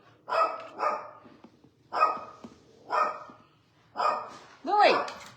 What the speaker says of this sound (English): What's he barking at, Bill?